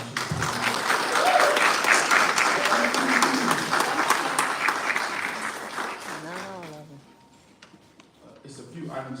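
Loud applause from an audience at a Thornton Township meeting fills the first six seconds, dense clapping that fades out before a voice begins speaking near the end.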